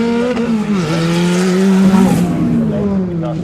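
A 1980 Renault R8 rally car, prepared by a rallying family, races on a live demonstration stage, its engine note loud and close, rising and falling with gear changes and faint tyre squeal, over a steady crowd murmur.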